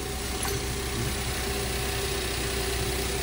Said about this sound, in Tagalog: So tahimik na yung andar ng ating Toyota Wigo.